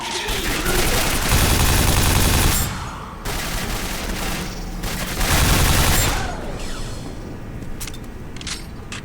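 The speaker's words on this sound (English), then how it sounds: "That's what I call a nail gun" Rapid automatic nail gun fire in the shooter game Quake 4, a dense sustained burst of loud mechanical shots with brief pauses between volleys, layered over game explosions and effects.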